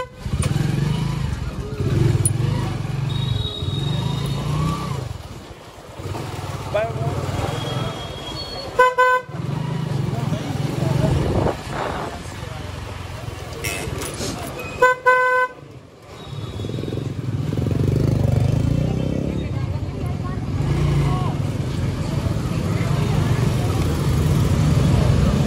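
Motorcycle ride in traffic from Haridwar to Rishikesh, India: a steady engine and road drone with wind, repeated car and bike horn toots cutting through, and a voice talking over the riding noise.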